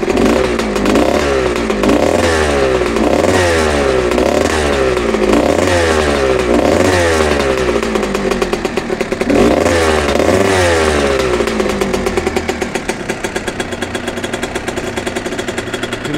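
A 2001 Kawasaki KX125 dirt bike engine revs up and down repeatedly at close range, rising and falling in pitch with a rattly, popping exhaust tone, loud throughout.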